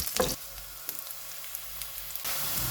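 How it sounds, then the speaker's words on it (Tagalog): Garlic sizzles and crackles steadily in hot cooking oil, close and fairly quiet, with a few sharper clicks near the start and the hiss growing fuller toward the end; no one speaks. "At pag mainit na ang mantika natin ay Sabay natin ilagay ang ating mga bawang"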